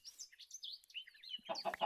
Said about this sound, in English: Where are you, chicken?